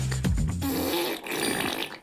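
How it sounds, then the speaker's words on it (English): A cartoonish explosive fart sound effect from the Fart Attack browser extension for Chrome, one loud, sputtering blast that rumbles on for about two seconds with no voices. "using the Chrome extension Fart Attack, make your friend's computer let out an explosive fart every time they click a link"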